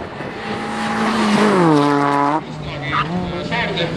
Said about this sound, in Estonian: Motospordilikult uus auto nimega Toyota Starlet